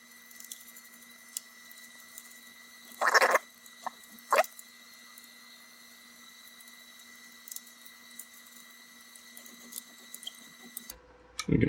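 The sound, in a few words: bracket clicking into place in 3D printer channel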